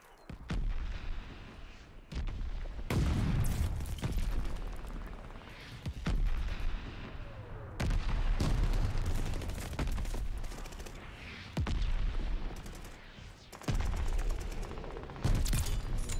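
Mortar shells and gunfire in the Call of Duty Vanguard video game, heard as loud, repeated booming blasts and rattling shots that overlap across the whole stretch without pause.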